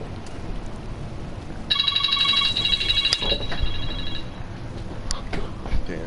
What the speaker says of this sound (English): That's an alarm.